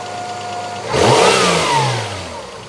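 A 1996 Toyota Camry estate engine, suspected faulty and low on coolant, idles then takes a quick throttle blip, rising in pitch and falling back, close and clear with no talking.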